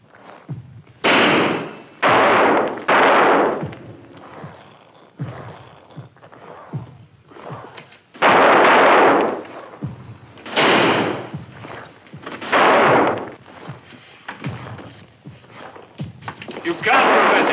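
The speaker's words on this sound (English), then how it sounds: "And shoot straight, don't waste a shot." Gunshots fired in a 1958 horror film: a series of sharp, loud bursts spaced irregularly over several seconds, each followed by brief echo, with quieter gaps and background noise between them.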